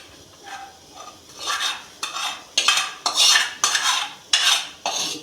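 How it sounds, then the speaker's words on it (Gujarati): A spoon stirs dhokla batter in one direction in a bowl, giving a regular run of scraping, clinking strokes that grow louder and steadier. There is no speech. "એક જ બાજુ આવી રીતે આમ હલાવીને મિક્સ કરવાનું છે"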